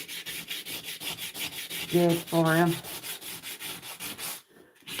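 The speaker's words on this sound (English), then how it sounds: "we're just gonna give his cheeks a nice good sanding here" Sandpaper rubs back and forth over a hand-carved wooden figure's cheeks in quick, regular strokes, close up and moderately loud, with a brief spoken remark over the scratching.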